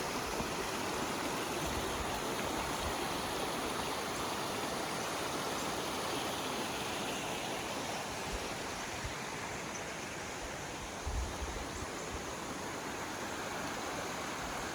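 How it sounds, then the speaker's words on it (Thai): A mountain stream flows beneath a suspension bridge near Wat Khao Banchop in Chanthaburi, where two ranges meet, giving a constant, dense rushing wash of water heard alone, steady from start to finish. "ส่วนลำธารที่อยู่ด้านล่างนี้ก็คือลำธารบรรจบค่ะ"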